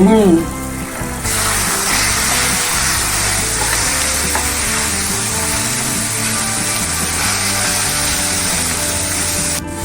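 Egg and fenugreek leaves sizzling and frying in a pan over medium heat, a steady loud crackle with occasional stirring scrapes, and a voice speaking briefly at the start.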